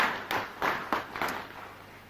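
Applause at a university graduation ceremony: four or five short bursts of clapping in quick succession, fairly quiet and distant, fading out within about two seconds.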